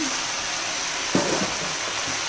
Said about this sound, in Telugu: బాగా వేయించాలి.